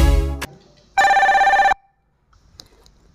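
Incoming call ringing on a Noise ColorFit Icon 2 Elite Edition smartwatch: loud, close electronic ring bursts that start, stop, then sound again, with silence between them.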